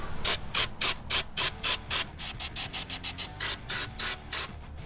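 Short bursts of brake cleaner sprayed into the intake manifold of a 2000 Ford Lightning with a Kenne Bell supercharger, a rapid run of hissing squirts in a steady rhythm, close and fairly loud, no talking.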